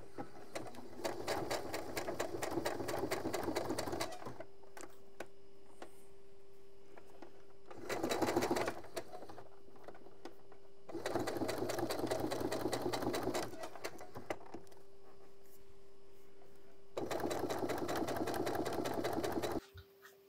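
A sewing machine stitching a seam on a Teddy bomber jacket runs in four rapid mechanical bursts separated by quiet pauses, close and clear over a faint steady hum.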